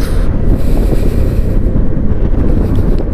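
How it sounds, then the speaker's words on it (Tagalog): Strong wind battering the microphone high up in San Nicolas, Pangasinan, a loud unbroken roaring buffet that fills the whole stretch with no voices. "lakas ang hangin sa taas."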